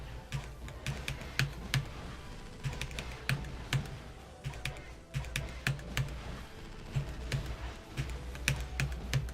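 Rapid, fairly close computer keyboard typing during a 2D Fighter Maker fighting game session, with bursts of sharp clacking keystrokes that pause briefly and then resume across the whole stretch.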